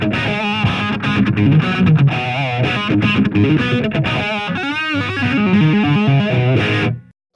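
An electric guitar plays a distorted rock riff, with a phaser effect adding a swirling, sweeping tone, continuing for several seconds before cutting off abruptly.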